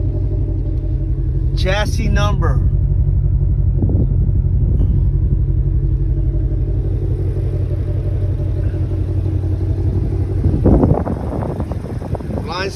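A 2020 Ford Mustang Shelby GT500 idles with a deep, continuous exhaust rumble heard up close. Someone talks briefly over it and a few short mechanical clicks are mixed in.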